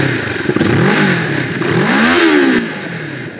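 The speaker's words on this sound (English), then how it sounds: "Let's hear the exhaust note." A Moto Morini X-Cape 650 adventure motorcycle, a 650cc bike whose dual pipes merge into a single chamber, revs hard in loud close blips, its exhaust note swelling and falling twice before settling, with no talk.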